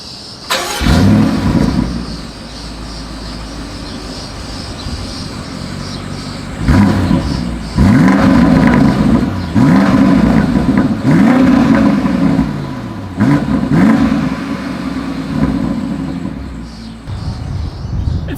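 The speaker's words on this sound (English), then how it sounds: "I do think this is going to sound good because we have the M50i, but let's go ahead and take a listen." A BMW X7 M50i V8 exhaust rumbles close by, bursting into several sharp revs that each swell and fall back to a deep idle.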